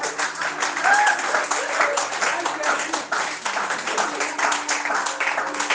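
Church worshippers applaud together in a steady, full roar of clapping that holds for several seconds, with crowd voices blended underneath.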